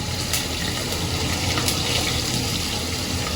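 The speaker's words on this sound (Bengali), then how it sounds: "এর মধ্যে অল্প কয়টা কাঁচা লঙ্কা আগে দিয়ে দিই, ফোড়নে দিই, তাতে গন্ধটা ভালো আসবে।" Green chillies drop into hot oil for a Bengali tempering while hilsa fish curry is made, producing a loud, steady, close hiss and crackle of sizzling that fills the whole stretch without a break.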